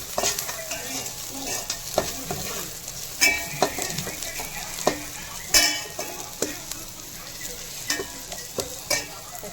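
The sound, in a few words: onions sautéing in a pan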